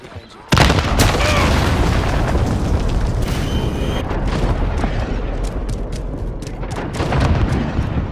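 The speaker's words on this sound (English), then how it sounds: "Enemy cruise missile!" A cruise missile explodes in Call of Duty: Modern Warfare with a sudden loud boom, followed by a heavy sustained roar of blasts and rumble that stays dense for several seconds.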